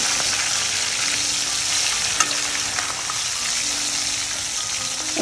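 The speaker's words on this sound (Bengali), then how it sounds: "আমি মাছগুলো লাল লাল করে এক পিঠ ভেজে নিচ্ছি" Pieces of rui (rohu) fish fry in hot oil in a pan until browned on one side. The sizzle is loud, dense and steady, close up and unbroken, with a faint tap or two from the utensil.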